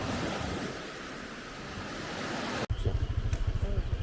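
Waves washing onto a local beach on Camiguin island, with a broad surf roar and wind noise that cuts abruptly into quieter, rhythmic lapping and rumbling.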